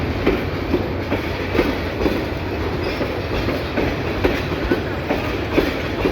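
A very long passenger train rolls into Sylhet railway station in Bangladesh, its wagons producing a loud, steady rumble with a rhythmic clickety-clack of wheels over rail joints that continues without pause.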